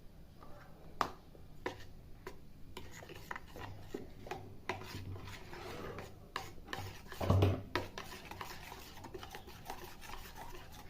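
Chopped greens get stirred by hand with chili powder, turmeric and salt for a Maharashtrian bhaji, giving soft, continuous rubbing and rustling with occasional light taps and scrapes, faint and close.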